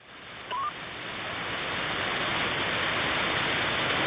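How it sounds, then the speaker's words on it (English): Short stepped electronic roger beep from an amateur radio transmitter unkeying, followed at once by a steady wash of loud radio static hiss. "Every time I unkey, I hear a Pissweak Roger beep."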